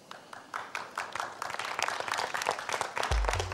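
An audience applauds at a folk-singer television contest gala. The clapping is dense and steady and grows louder toward the end, where a low thump sounds.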